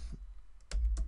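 Several quick clicks of typing on a computer keyboard, a short burst of separate taps, close and fairly quiet, with no talk.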